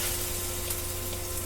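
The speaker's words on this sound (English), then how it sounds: "Gotta love that sizzle" Potato pancakes (latkes) frying in hot oil, giving a steady, close, continuous sizzle and crackle with no voices over it.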